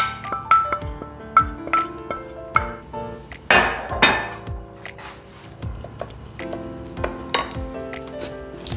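Bread pudding is moved into a smaller dish with clinks and scrapes of a utensil against the dish, scattered sharp taps and a brief rustling scrape midway, close and moderately quiet.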